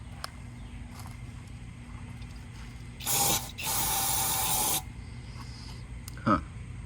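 Carb cleaner sprays into the engine of a Yamaha XV250 motorcycle in two bursts, a short hiss followed by a longer steady one, over low background hum, with a faint click afterward.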